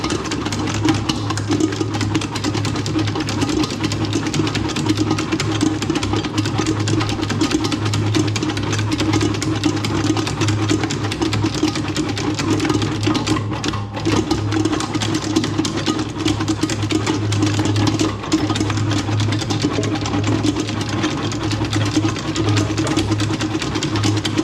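A mixer runs at high speed kneading puff pastry dough, giving a steady, continuous motor hum with a low tonal drone that stays even throughout, with no talking.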